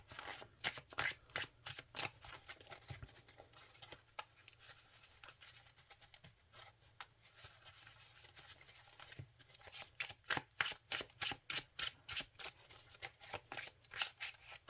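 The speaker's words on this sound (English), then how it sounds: "Shuffle this up pretty quick." A Yu-Gi-Oh! card deck is shuffled repeatedly, with bursts of quick riffling flutters and crisp snaps, close and clear, separated by brief pauses.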